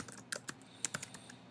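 Typing on a computer keyboard, a short run of separate clicky keystrokes at an uneven rhythm, close and clear with no voice.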